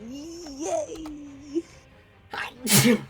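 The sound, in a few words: sneeze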